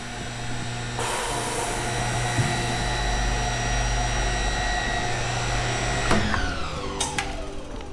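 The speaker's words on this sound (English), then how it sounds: "you turn the motor on, the motor stays on" The electric motor of a 2018 Ironwood BR23 construction boring machine, 220V single phase, spins up to a steady loud whine with a low hum, running continuously before a brief clunk near the end.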